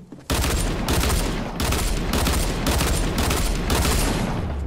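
Loud automatic gunfire in Fortnite, several long sustained bursts of rapid shots separated by brief gaps, close and dominant after a quiet opening moment.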